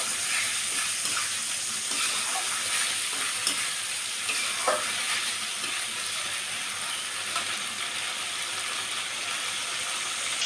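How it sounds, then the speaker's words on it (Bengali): Fried potatoes being sautéed with spice masala in a pan for tepa fish bhuna, with a continuous hissing sizzle and occasional scraping stirs throughout. "এবার আমি দিয়ে দেবো ভেজে রাখা আলুগুলো। আলু দিয়ে একটু ভালো করে কষিয়ে নেব।"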